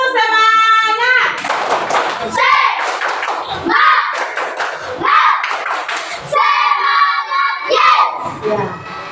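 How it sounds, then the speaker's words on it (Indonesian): A group performs a rhythmic 'tepuk semangat' clapping chant: loud, patterned hand claps mixed with energetic shouted voices in close bursts. "Coba tepuk semangat"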